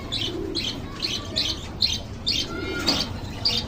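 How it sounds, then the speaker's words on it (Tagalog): A flock of pet parakeets, kept alongside pigeons, gives steady bright chirps in a regular repeating rhythm, fairly close and moderately loud, with no talking. "may mga alaga kong paraket, dumami na rin"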